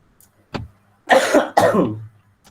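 A person coughs, first with a short single cough and then with two heavy, close-up coughs in quick succession against a quiet background.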